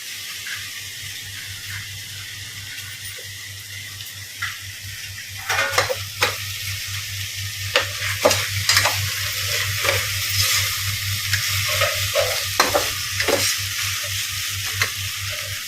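Vegetables for vegetable pulao fry on low flame in a pan, a steady soft sizzle joined halfway by repeated scraping and clattering stirring strokes, close and fairly loud, with no talk.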